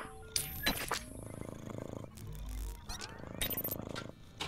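A cat purrs in a steady low rumble through most of the moment, close and moderately loud, with chatter and game sounds mixed in during a Jackbox game night.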